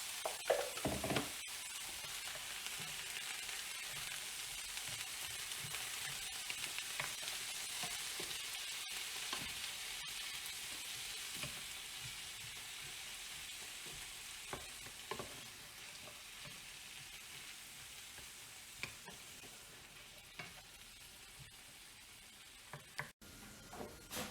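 Vegetables and leftover pea casserole fry in a pan on the stove, a steady, hissing sizzle with crackles and occasional stirring scrapes, close and continuous throughout.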